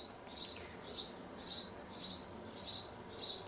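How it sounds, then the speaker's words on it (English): A small sparrow sings outdoors in a regular series of six bright chirping phrases about half a second apart, clear and fairly close over quiet background noise. "It's this little sparrow singing."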